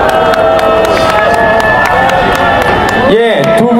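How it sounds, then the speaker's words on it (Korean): A loud crowd at a memorial concert for Pastor Moon Ik-hwan cheers and claps, with shouting voices and high whoops rising over a dense, continuous roar of noise. "여러분의 큰 박수가 필요합니다."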